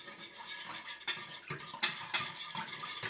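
Orange chicken sauce being stirred in a pan, with close utensil scrapes and clinks against the metal over a light bubbling sizzle, in irregular strokes.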